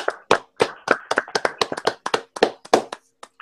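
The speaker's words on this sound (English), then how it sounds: "Golf clap." Golf clap from a small Las Vegas audience, a sparse series of about twenty distinct, close hand claps in an uneven rhythm, each crisp and separate.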